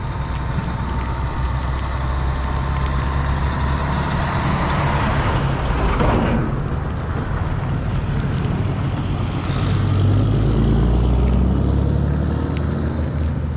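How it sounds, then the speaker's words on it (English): Road traffic passing through a small rural town in Iowa, a steady broadband rumble of cars and trucks with wind buffeting the microphone, swelling as vehicles pass near around the middle and again toward the end. "For a little teeny town, seems to be a lot of traffic today."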